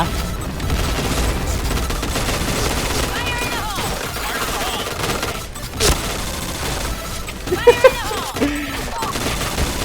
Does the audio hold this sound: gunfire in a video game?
yes